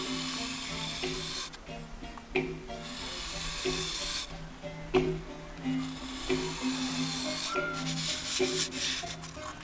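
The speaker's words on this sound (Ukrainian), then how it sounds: "І починаємо гострити." A woodcarving tool blade for making a kobza or bandura is rubbed against a sharpening stone in repeated scraping strokes, faint and close, with small clicks between passes.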